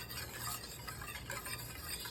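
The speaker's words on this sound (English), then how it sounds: "So we're gonna just whisk that together." Caramel sauce being whisked in a pan on the stove, a faint, steady bubbling hiss with soft stirring scrapes throughout, quiet and close.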